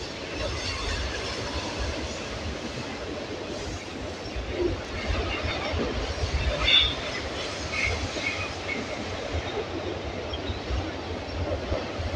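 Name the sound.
train passing overhead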